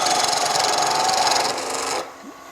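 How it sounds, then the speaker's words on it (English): A beading and parting tool cuts into spinning wood on a lathe while a three-legged stool is turned, giving a loud, continuous rasping scrape that eases off and stops near the end. "I'll use my beading and parting tool"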